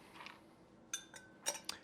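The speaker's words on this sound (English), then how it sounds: "I'm going to add 1 ice cube" A single ice cube goes into a cocktail glass holding a rum grog, giving a few bright, close glassy clinks and knocks in quick succession in an otherwise quiet room.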